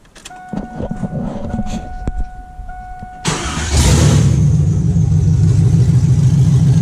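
A cheap LS1 V8 Z car with a newly fitted water pump cranks, fires and settles into a loud, steady idle, with no voices over it.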